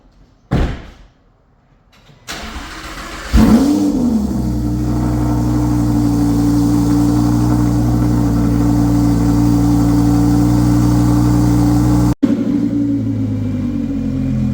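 A door thumps, then a Lamborghini Huracan with its catalytic converters removed cold-starts, cranking and roaring to life loudly before settling into a steady, rumbling idle nearby.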